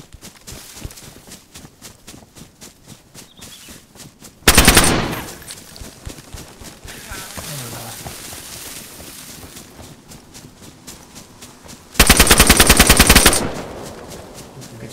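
DayZ gunfire sounds in a game: two loud, sustained bursts of rapid automatic fire stand out above a steady stream of quieter rhythmic clicks and footstep-like ticking.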